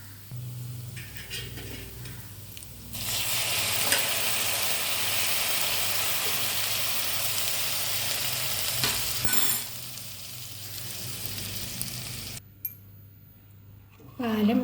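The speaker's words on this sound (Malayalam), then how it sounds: "ഇനി ഇതിലേക്ക് തിളക്കാറായ പാലൊഴിച്ച് കൊടുക്കാം." Hot milk poured into a pan of palpayasam, a steady loud hissing wash of liquid lasting several seconds with quieter stirring and cooking noise before and after.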